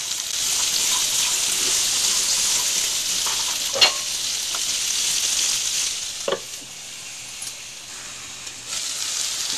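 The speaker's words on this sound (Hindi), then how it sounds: "दोस्तों, ऐसे ही हमें 2 मिनट तक फ्राई करना है" A pea filling for paratha fries in a pan with an even, bright sizzle close by, with a few scattered stirring scrapes and clinks over about ten seconds.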